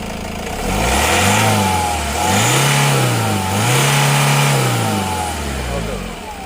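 A Honda BR-V seven-seater diesel car's engine revs up and down three times in a row on the accelerator, rising to a loud close roar each time before falling back toward idle.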